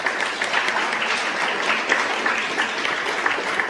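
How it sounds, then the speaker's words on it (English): Audience applause at an NGO conference held in the Library of Congress, a full room clapping steadily and loudly with no break, no speech on top. "I really do think he deserves a round of applause"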